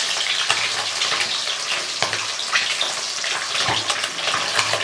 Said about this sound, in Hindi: ये देखिए कितनी अच्छी फ्राई हो रही है।